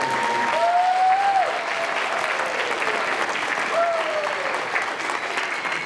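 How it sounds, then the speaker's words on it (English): An audience applauds a high school symphonic band, steady dense clapping from a crowd in a hall, with a voice briefly speaking over it. "Please give them a round of applause."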